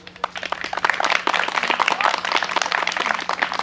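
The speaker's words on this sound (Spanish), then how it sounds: "también un fuerte aplauso" At a school gathering in Aramberri, a crowd of children and parents claps for a clown and his companions: dense, steady applause that swells quickly and holds, heard up close.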